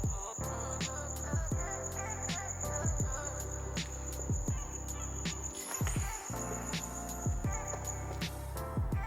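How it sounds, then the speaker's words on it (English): A cricket inside a Challenger keeps up a shrill, steady trill that cuts out briefly near the end and then resumes, over scattered knocking and handling thumps, with a voice speaking now and then. "there's like a cricket or some shit in here"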